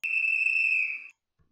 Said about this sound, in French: c'est marqué sifflet chef de gare